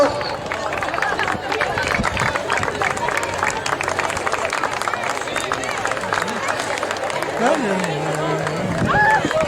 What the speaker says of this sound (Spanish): Fuerte aplauso a las subcampeonas.